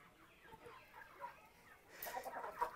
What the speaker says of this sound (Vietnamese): Cái bọn gà này cứ đi theo này là thế nào nhỉ?